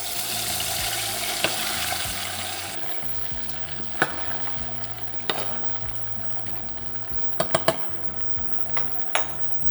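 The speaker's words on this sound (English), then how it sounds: "I'm going to deep fry them till they're golden and crisp" Chips deep-frying in hot oil at about 180 degrees, a steady close sizzle and bubbling with occasional clinks of a utensil or pan.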